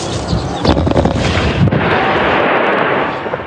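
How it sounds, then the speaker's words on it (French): A tunnel packed with explosives blowing up in Syria: two sharp blasts followed by a sustained, roaring rumble of debris and dust, loud and close, with no speech. "Une explosion monumentale."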